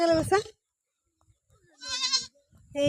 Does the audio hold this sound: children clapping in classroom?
no